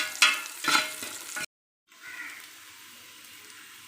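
Chopped onion and coconut fry in a pan, a bright crackling sizzle with a couple of stirring bursts that cut off abruptly, then return as a quieter steady hiss.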